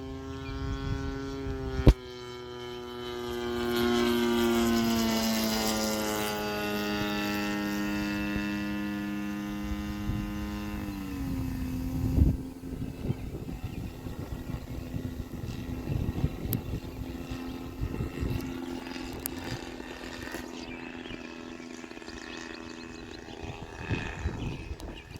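A small RC model biplane engine drones with a whining pitch that drops as it throttles back, then settles into a lower, uneven idle with faint rattling.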